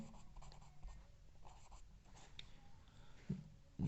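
Faint pen scratching on paper during a class 6 maths lesson, soft irregular strokes close by over quiet room tone.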